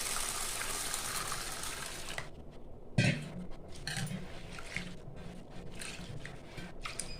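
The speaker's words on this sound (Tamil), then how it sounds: "1/4 கிலோ துவரம்பருப்பு எடுத்துருக்கிறேன். இதை ஒரு 2-3 தடவை நல்லா கழுவி எடுத்துக்கலாங்க." Toor dal lentils washed in water, a steady gushing pour and then swishing, sloshing rinses in a vessel with a sharp knock partway through, close and fairly loud.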